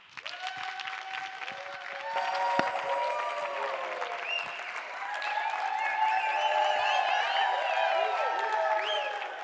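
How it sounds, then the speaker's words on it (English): Conference audience applauding a keynote speaker, a dense burst of clapping that swells and holds with some cheering and crowd noise, carrying on steadily for several seconds. "Please give a big round of applause for Cristina Aranda."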